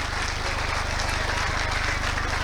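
Applause from trainees at a motivational training session in Kediri, a steady wash of clapping throughout, with a low rhythmic thrum underneath and no clear speech.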